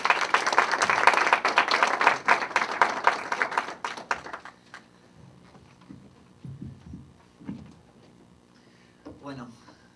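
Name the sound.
applause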